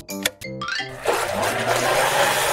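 A blender whirs up a smoothie after a short chiming tone, its motor rising into a steady, loud, grinding roar that holds to the end.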